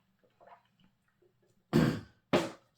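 A few faint small sips and handling noises, then two short, louder gulps of water close by in a quiet room, with no talking.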